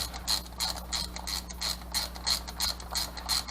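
A ratchet clicks rhythmically while tightening the long carburetor screws on a Sea-Doo SPX 717 engine, a brisk series of close, even mechanical ticks in short repeating strokes with no talking.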